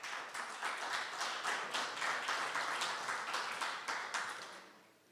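Clapping from an audience at an international policy session, a steady patter of many hands at moderate distance that carries on for several seconds before fading out at the end.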